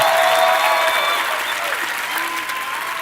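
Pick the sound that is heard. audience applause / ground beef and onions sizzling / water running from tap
audience applause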